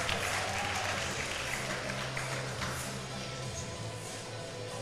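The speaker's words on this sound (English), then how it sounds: "Shi Ziyong, sat in the crowd, is clapping" Spectators applauding in the crowd at a weightlifting competition, an Olympic qualifier, as a continuous wash of many hands clapping at a steady level that fades slightly toward the end.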